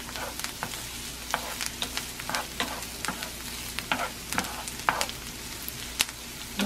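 Onion frying and browning in a pan for a vegetarian lentil soup with vegetables and chorizo, a steady sizzle broken by frequent sharp scrapes and taps of a utensil stirring, close and fairly loud, with no talking.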